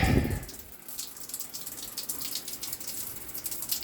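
Water pours steadily from the outlet of a homemade hot water system, a continuous close splashing flow with a brief louder gush at the start and no talking.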